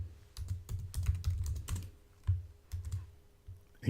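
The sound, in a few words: typing a title on computer keyboard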